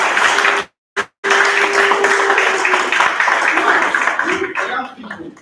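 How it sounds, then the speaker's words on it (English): A workshop audience breaks into a sustained round of applause, dense clapping with a voice over it, briefly cut off near the start, then tapering off toward the end. "I want us all to give a round of applause to BudgIT Ghana for this"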